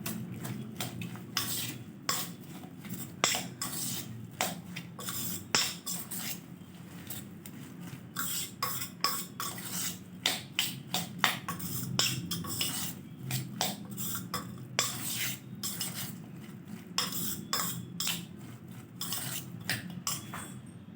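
A spoon clinks and scrapes steadily around a bowl while soya chunk chaat is mixed with tomato sauce, producing a run of close, irregular taps and stirring rattles with no talking.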